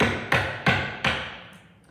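A mallet strikes a chisel three times as it cuts into a workpiece for a race car build. Each blow is sharp and close, the strikes come at a steady pace, and each one rings briefly before fading. No one speaks.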